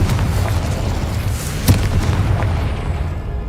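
A Confringo fire-blast spell from the game Hogwarts Legacy goes off in a single sharp explosive burst. A dense, rumbling game soundscape carries on around it, with no voices.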